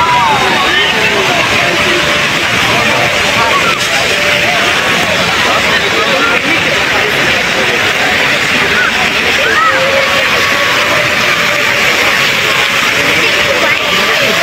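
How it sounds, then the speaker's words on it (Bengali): Fountains at KLCC in Kuala Lumpur send out a steady, loud wash of splashing water. It runs without a break the whole way through, with a faint murmur of crowd voices underneath. "আপনারা শুনতে পাইলেন ঝর্ণার যে আওয়াজগুলো, দেখছেন কি আওয়াজ"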